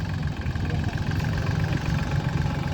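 Solis 26 Xtra tractor with a wide base and Mitsubishi engine idling, a steady low rumbling drone with constant vibration, close and continuous with no other sounds.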